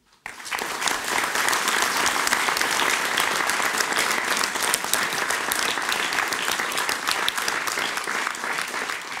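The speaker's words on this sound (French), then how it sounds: "Ils ont été les maillons essentiels d'une très belle chaîne de solidarité et mérite à bien des égards nos applaudissements." Applause from a civic audience at a mayor's New Year greetings ceremony in Palaiseau, a dense, steady clapping that rises almost at once and holds loud and even throughout, with no voices over it.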